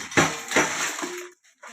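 Metal kitchen vessels, bowls, glasses and plates clink and clatter in a few quick handling knocks, close and fairly loud, with short pauses between.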